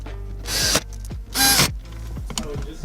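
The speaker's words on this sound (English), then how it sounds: "And now we can screw in the 2 screws that hold this in down here." Screws are driven into the dash panel of an Infiniti G37 with a powered driver in two loud, close whirring bursts, each followed by brief clicks and ratcheting sounds.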